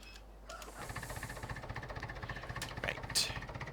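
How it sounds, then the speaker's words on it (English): Tractor engine in the video game Farming Simulator 15, a steady rhythmic diesel chugging pulse running throughout with a brief higher whir near the end, no talk. "Love the sound on this tractor."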